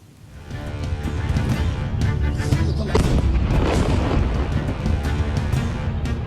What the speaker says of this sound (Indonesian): Ledakan besar terjadi usai serangan udara dijatuhkan di permukiman warga